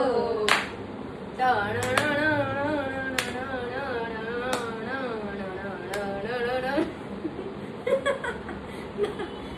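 Sharp hand claps land every second or two alongside a singing voice and casual chatter during a family reel shoot at home, the claps irregular and fairly close.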